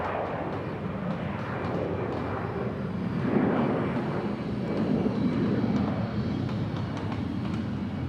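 A Vietjet Air Thailand airliner at Bangkok Suvarnabhumi Airport produces a loud, steady broadband jet roar that swells slightly in the middle and holds without a break.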